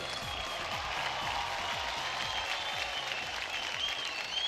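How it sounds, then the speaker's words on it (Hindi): A television dance show audience applauds steadily in a dense, continuous wash of clapping, with a rhythmic music beat pulsing faintly underneath and no talk. "इन सब के लिए एक बार जोरदार तालियां"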